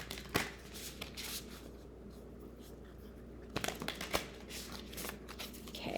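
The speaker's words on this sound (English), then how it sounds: "So let's ruffle, shuffle, and see what we have with appreciation." Star Codes Astro oracle cards are shuffled by hand close up, quiet papery riffles and flicks in several bursts separated by brief pauses, with no talking.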